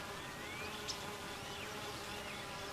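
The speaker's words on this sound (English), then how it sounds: "They even fan the hive with their wings to keep it cool on a hot summer day." Honey bees fanning their hive with their wings on a hot summer day, producing a dense, steady, faint buzzing drone with no pauses, a continuous insect hum throughout.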